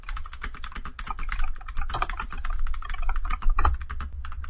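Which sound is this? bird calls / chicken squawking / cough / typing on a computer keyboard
typing on a computer keyboard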